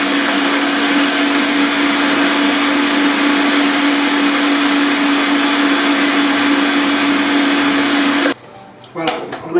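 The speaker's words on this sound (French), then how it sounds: "Mixeur de crème liquide. Pour que ça soit bien mixé." Electric blender whipping liquid cream, a loud steady high-pitched whirring drone that runs continuously for about eight seconds before cutting off abruptly, followed by a few faint clatters.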